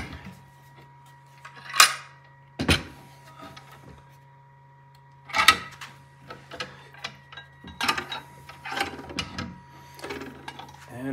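Clamps are cranked tighter on a freshly glued guitar headstock scarf joint in a workshop, giving scattered ratcheting clicks and squeaky mechanical bursts separated by quiet pauses.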